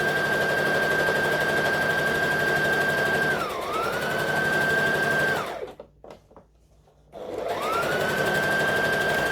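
Home sewing machine stitching a straight seam on a top: a close, steady high motor whine with a short dip, then a pause of near silence before the whirring resumes.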